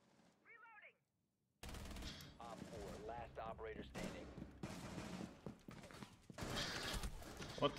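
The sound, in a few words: gunfire from an enemy in the video game Rainbow Six Siege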